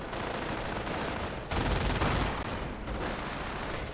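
Dense, continuous gunfire and explosions from a strategy video game battle with snipers and machine gun crews, loud and sustained with a heavier burst in the middle and no voices.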